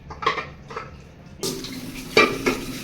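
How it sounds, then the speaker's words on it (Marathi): Metal pressure cooker clanks and scrubbing with water splashing, a few sharp knocks of metal against metal at close range, no voices. "फटाफट कुकर धुवायत"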